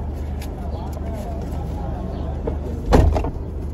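A door swings shut with one solid thump near the end, over a low rumble of room noise and murmuring voices.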